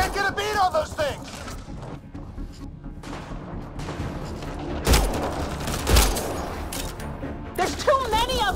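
Sci-fi gunfire from a Mass Effect Andromeda battle crackles in scattered volleys with a couple of heavy booms, mixed with shouting voices at the start and end.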